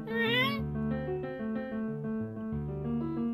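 A cat meows with rising, wavering pitch at the start of the free game mirror -insideout-, then gives way to layered tonal music that carries on steadily underneath.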